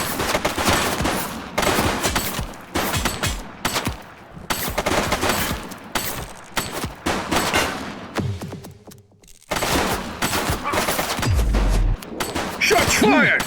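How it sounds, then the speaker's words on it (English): Bursts of rapid automatic gunfire and single shots ring out in the police video game The Precinct, loud and close, in repeated volleys with brief pauses between them. "Shots fired!"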